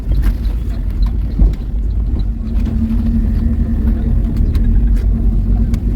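A vehicle carries riders up a mountain road toward nearly 2,000 m on the Arjuno–Welirang route, its engine a steady low rumble throughout with faint muffled voices at moments.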